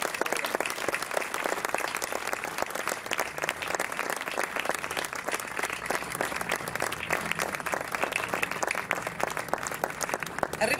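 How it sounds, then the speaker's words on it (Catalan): An open-air gathering in front of an old prison in Tarragona breaks into strong crowd applause, dense rapid clapping that stays loud and sustained from start to finish. "Un fort aplaudiment per totes elles."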